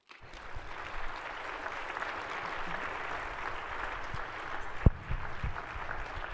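An audience claps steadily to welcome a speaker onto a stage, a fairly distant wash of applause holding even throughout, with one sharp louder knock near the end.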